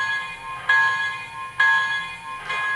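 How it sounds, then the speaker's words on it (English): Sound-system bell of an MTH HO scale New York Central J3a Empire State Express steam locomotive model, three evenly spaced metallic dings with ringing tones that hang between strikes, loud and alone. "So here's the bell."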